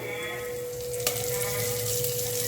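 Mustard seeds, dried chilli and curry leaves sizzle steadily in hot oil, a continuous close crackling hiss with one sharp pop near the middle and no talking.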